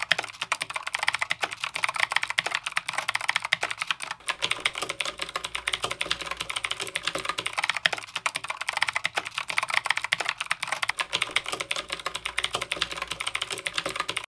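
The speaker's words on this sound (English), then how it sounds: "I prefer the sound and feel of Gateron switches over Utemu switches" Steady, rapid clicking and clacking of mechanical keyboard switches, Gateron or Utemu, on a RAKK Kimat XT.2 or Tecware Phantom RGB keyboard, typed on continuously, close and crisp, with no voices.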